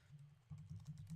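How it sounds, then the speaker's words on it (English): Fingers tap out a web address on a computer keyboard, a quick run of soft, close key clicks at a low level with no voices. "let me type that in"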